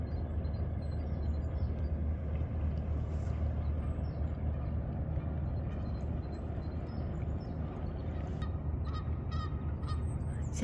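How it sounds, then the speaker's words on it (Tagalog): A steady outdoor din of honking geese and wild ducks calling in a Japanese garden in Bonn, over continuous low rumbling background noise, loud and sustained throughout. "pakinggan ng mga tunog ng pato, mga wild ducks"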